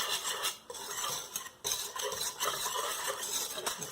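A whisk stirs flour, baking powder, baking soda, spices and salt together in a bowl for vegan gingerbread, giving a continuous scratchy rustle with brief pauses, close and fairly clear.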